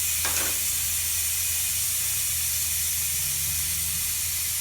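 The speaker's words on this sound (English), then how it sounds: "Let the air come out the tire." Air hissing steadily out of a tire after its valve core is pulled, ahead of bead breaking with a wide-foot bead breaker; a continuous broadband hiss close by with a low hum beneath it, no talk.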